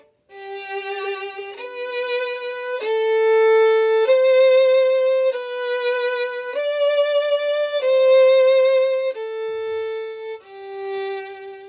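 A solo violin plays a slow, lyrical melody of sustained notes with gentle vibrato, each note clearly separated, alone and close.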